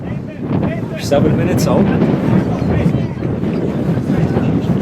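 Strong wind buffets the microphone at a windy, rainy evening soccer match, a continuous low rumbling roar that swells slightly as commentators talk over it.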